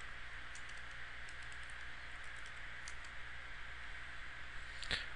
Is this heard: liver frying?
no